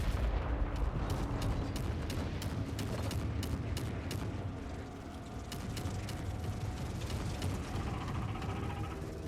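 Gunfire in a video game: a steady stream of sharp, rapid shots rattles over dense, rumbling battle noise for the whole stretch, moderately loud and without pause, with no talk.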